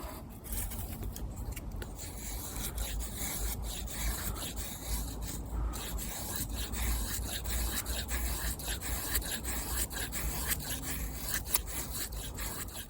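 An Opinel 8 knife carving feather sticks from a piece of wood, a close, continuous scraping and rasping of the blade shaving curls, steady and even in level throughout with no talk.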